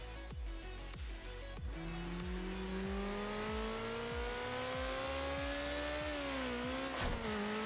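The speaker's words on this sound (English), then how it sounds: "A high-end supercar in the French Riviera." A high-end supercar in Burnout 3 Takedown, racing along the French Riviera, holds a steady, rising engine drone under rapid ticking and clattering impacts, with a sharp crash near the end.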